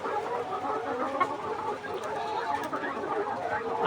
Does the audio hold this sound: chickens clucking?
yes